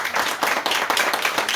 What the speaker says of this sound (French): qu'on applaudisse ceux qui nous accueillent